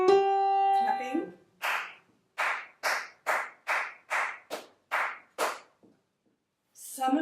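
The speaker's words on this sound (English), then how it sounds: "Clapping" Hand claps in a steady rhythm for a Grade 1 aural test, about nine crisp, evenly spaced claps, heard close and alone after a short sustained tone.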